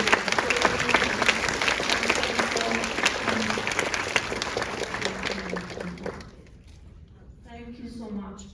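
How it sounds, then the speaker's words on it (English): Big round of applause from the audience at a film festival screening of a South Korean film, loud and dense with a voice talking over it, then fading to quieter talk near the end. "so please give a big round of applause"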